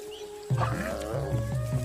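A tiger cub hiccups in a series of short, abrupt gulping bursts, several close together at moderate loudness, with faint background sounds.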